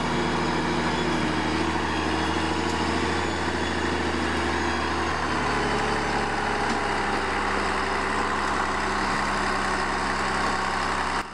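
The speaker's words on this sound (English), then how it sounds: "This is a Volvo FH16-600 tractor truck equipped with a Faymonville trailer and an Ypsilon crane" A Volvo FH16-600 logging truck with a Faymonville trailer and a full load of timber drones steadily on a forest road, its heavy diesel engine rumbling at low speed throughout, with no speech.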